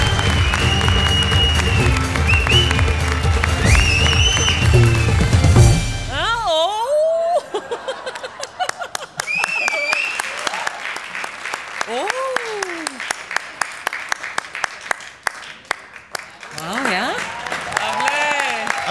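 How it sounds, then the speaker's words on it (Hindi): Studio audience of a comedy show bursts into loud applause with laughter for several seconds, then it drops away as a voice speaks. "जोरदार तालियां।"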